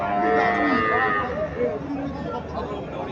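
Cattle and calves at the Chandimura cattle market in Cumilla, Bangladesh, with low moos mixed into nearby talk and market babble throughout.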